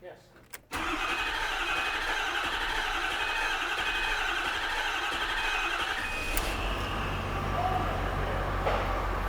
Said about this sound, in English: I'm gonna go ahead and crank on this again